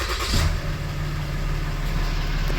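A Ram 3500 pickup with a 6.7 diesel engine catches and settles into a steady low idle after a brief start-up surge, loud and near, no voices.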